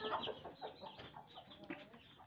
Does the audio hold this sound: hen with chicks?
yes